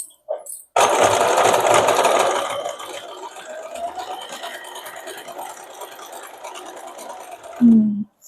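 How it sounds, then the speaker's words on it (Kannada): A zigzag stitch running on a domestic sewing machine through fabric, a loud steady whirring burst after a brief start, gradually easing to a quieter hum before a final clunk at the end. "ಸ್ಟಿಚಿಂಗ್ ನೋಡಿ ಹೆಂಗ್ ಬರುತ್ತೆ ಇದರಲ್ಲಿ ಅಂತ."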